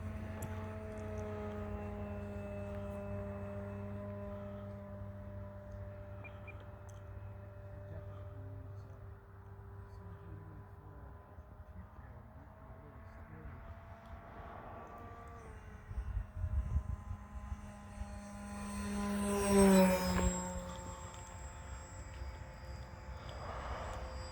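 A Mitchell 01 Panthera light aircraft engine runs at full throttle, a steady droning hum with a rising whine that swells near the end, heard from close by with faint voices underneath.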